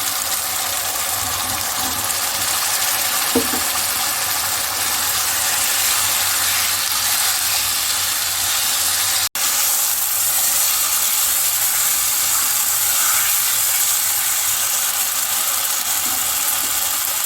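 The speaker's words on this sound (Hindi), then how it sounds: "आलूओं को भूनेंगे" Boiled potatoes sizzle in hot spice masala for achari aloo, a steady close hiss and crackle of frying that runs unbroken with no talk.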